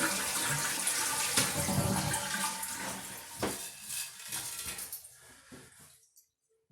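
A toilet flushes and its tank drains: a loud rushing gush of water that gradually thins and fades to a quiet trickle and silence.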